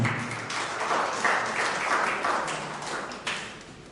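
A meeting audience at an AGM applauds the accountant, a modest patter of clapping that swells and thins over a few seconds.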